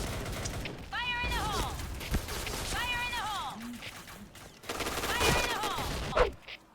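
Bursts of AK rifle gunfire in the Point Blank shooting game crackle in rapid clusters with short gaps between volleys, while voices talk over them.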